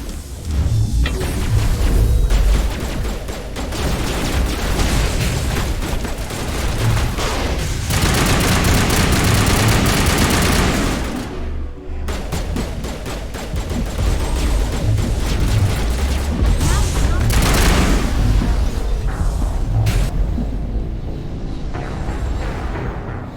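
Sustained firefight gunfire in Mass Effect, a dense continuous barrage of shots and booming impacts, loud and close, with a brief lull midway before the shooting resumes.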